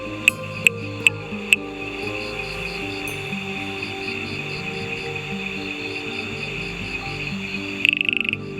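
Blue-eyed bush frog, also called the Coorg yellow frog, calling in the wet monsoon Ghats: a few sharp, clicking notes at the start and again near the end, over a steady shrill insect chorus and low background hum.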